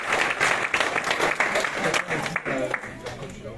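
Steady applause from a crowd at a tournament draw fills the whole stretch, with dense clapping continuing throughout and some voices mixed in beneath it.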